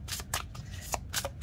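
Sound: shuffling a deck of tarot cards

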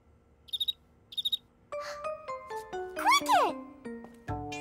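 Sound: cricket chirping in Caillou cartoon

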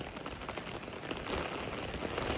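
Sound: heavy rain falling in Frankfurt

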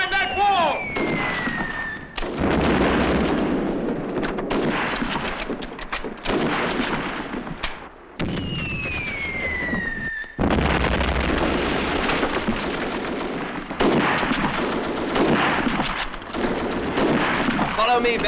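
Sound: gunfire and artillery fire in a war film

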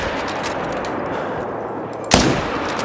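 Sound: 300 Magnum rifle gunshot in Call of the Wild video game

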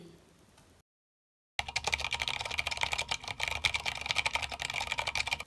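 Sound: typing on ANT Esports MK1000 mechanical gaming keyboard

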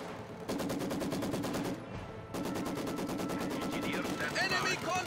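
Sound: machine gun fire in video game Company of Heroes 2

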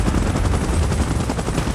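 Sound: helicopter in PUBG Mobile video game

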